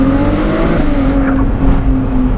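A Novitec Ferrari 296 GTS supercar driving on the road. Its engine makes a steady, close, loud drone with a clear humming tone, and there is no talk over it.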